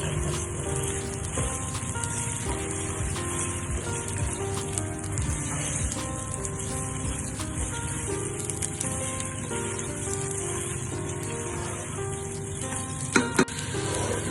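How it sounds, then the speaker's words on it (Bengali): Rice coated in spice paste fries in a pan, giving a dense, continuous sizzle like steady rain with faint stirring scrapes, close and even throughout, and a couple of brief knocks near the end. "এই মশলাটা ভালোভাবে চালের সাথে মেখে তারপরে খুব সুন্দর করে ভাজতে হবে এবং অনবরত নাড়তে হবে ভাজার সময়"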